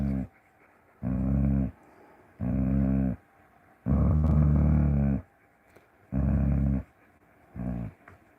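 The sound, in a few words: dog growling and vocalizing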